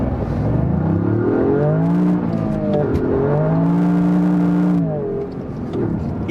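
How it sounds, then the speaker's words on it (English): A 2021 Toyota Yaris GR engine revs hard through the gears on a snowy road, climbing repeatedly in pitch and bouncing off the rev limiter, loud and close from inside the car. "It hits the rev limiter so nicely"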